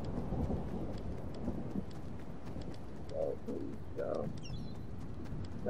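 Thunderstorm in a multiplayer shooter game: a steady rumbling rain-and-thunder bed runs throughout at moderate level, with faint bird-like calls and brief game effects over it.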